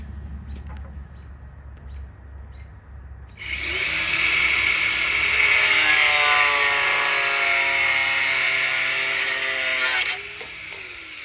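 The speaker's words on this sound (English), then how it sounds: "So basically I just have to sit here and cut all this down now to 58 inches." A power saw starts after a few seconds of quiet and cuts metal to length steadily for about six seconds with a loud, high whine, then winds down.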